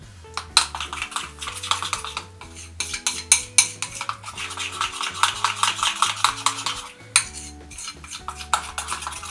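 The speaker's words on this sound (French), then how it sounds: "Et je remue. J'en remue bien." A spoon stirs and scrapes through a thick homemade clay and honey face mask in a bowl, with rapid uneven clinks and scraping that come close and fairly loud in bursts, plus brief gaps and soft background noise.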